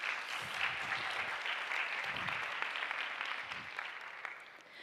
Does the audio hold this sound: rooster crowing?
no